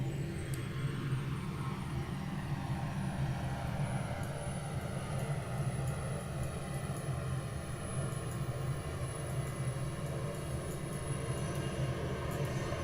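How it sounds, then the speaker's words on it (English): Learjet 35A jet engines in a flight simulator, heard from outside as a steady, loud, continuous roar with a high whine on top, sustained without a break. "Sounds like a jet, right?"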